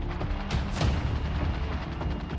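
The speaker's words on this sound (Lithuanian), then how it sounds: "Staiga nuaidi šūviai." Several sharp gunshots crack out in quick succession against a dense, rumbling background, fairly distant and muffled.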